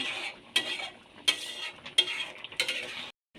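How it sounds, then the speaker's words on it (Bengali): A spoon scrapes and clinks against the pot while stirring taro curry seasoned with Maggi masala, in four sharp, evenly spaced strokes over a soft background sizzle. "দিয়ে হালকা নেড়ে নেব"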